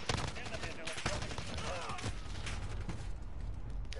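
A fast-fire-rate AK rifle in a shooter game, rapid bursts of gunfire rattling over a continuous noisy background of distant shots and game ambience, with a voice briefly talking underneath.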